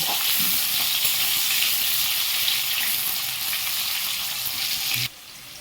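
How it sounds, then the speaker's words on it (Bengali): Potatoes fry in hot oil with turmeric and salt, a steady, dense sizzle and hiss that holds evenly for about five seconds before dropping abruptly to a quieter crackle. "আলুটাকে একটু লাল লাল করে ভেজে নেব।"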